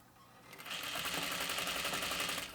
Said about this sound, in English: I'm just gonna continue to sew